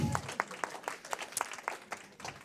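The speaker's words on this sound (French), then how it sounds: "On va applaudir Thierry." Renewed audience applause at an evening talk in Poitiers, a thinner spread of separate hand claps with a few louder close ones, steady for a couple of seconds.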